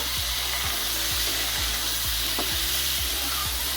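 Chopped tomatoes stir-fried in a pan while cooking a vegetarian potato curry, giving a loud continuous sizzle with a regular scraping rhythm of the spatula stirring about twice a second, close and without talk.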